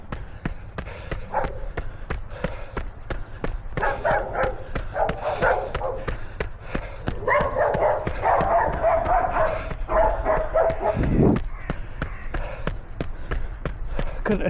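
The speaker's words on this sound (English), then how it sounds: "they do have some working dogs, so I might get a little friendly hello from them as I go by" Farm working dogs bark repeatedly in sharp yips at a passing runner, while the runner's steady footfalls thud rhythmically throughout, near and fairly loud.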